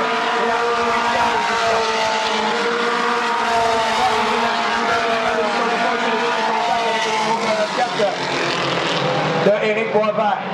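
Race cars, one driven by a 14-year-old, roar around a track during a race, a dense layered engine drone with shifting pitch under continuous commentary.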